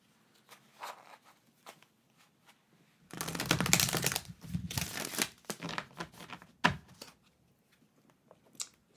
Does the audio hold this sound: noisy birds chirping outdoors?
no